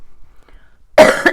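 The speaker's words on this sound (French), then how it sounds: "je vais tousser" A single person coughs once, loud and close, a short harsh burst after a near-silent pause, with a smaller second push trailing at the end.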